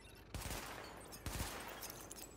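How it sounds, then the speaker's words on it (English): A weapon test at a shooting range in Tom Clancy's The Division game, with two sharp loud bursts of automatic gunfire about a second apart against a steady dense background. "Open fire at the highlighted targets"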